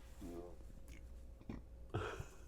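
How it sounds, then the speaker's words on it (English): A low, rough burp close to the microphone, brief and guttural, followed by a second throaty gulp-like sound, with faint background noise. "It was a burp."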